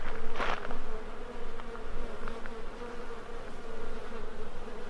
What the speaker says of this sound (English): the bees really seem to like it too